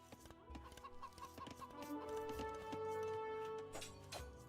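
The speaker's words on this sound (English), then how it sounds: "Okay, so there's like chickens and shorefish." Chickens cluck in a strategy video game map with rocky terrain and shore fish, a few short clucks over layered game music and ambient tones.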